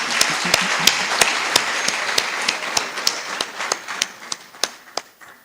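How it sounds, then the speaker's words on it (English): Audience applause at a public forum for two speakers: dense, steady clapping from a sizeable crowd that thins into scattered individual claps and fades out by the end. "Another round of applause for both of them, please."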